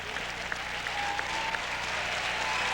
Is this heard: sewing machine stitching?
no